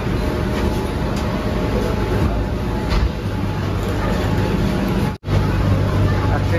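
Inside a carriage of Kolkata's East-West Metro Green Line as it runs under the Hooghly River, a steady loud rumble and roar of the moving train fills the whole stretch, with one brief dropout near the end.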